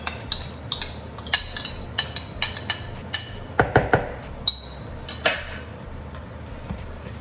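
Minced keema with masala and yogurt being stirred in a pot: a spoon clinks and scrapes against the metal in irregular, close taps, with a few sharper knocks and no voices.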